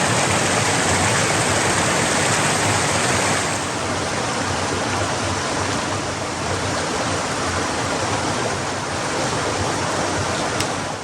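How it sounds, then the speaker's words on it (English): Running water from a stream beneath a bridge on a hiking trail rushes steadily and loudly, a continuous close hiss and gurgle with no voices. "I can hear the water running."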